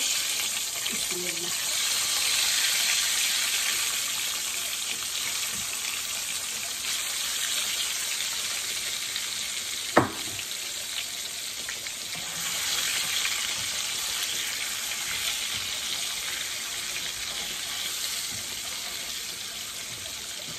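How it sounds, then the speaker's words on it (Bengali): Egg bhuna cooking in oil with turmeric, salt and chili, producing a soft, steady frying hiss that holds evenly for the whole stretch, with a single sharp knock near the middle. "এখানে আমি ডিম ভুনা করবো, সেজন্য তেলে দিতে একটু হলুদ লবণ মরিচ দিয়ে নিচ্ছি।"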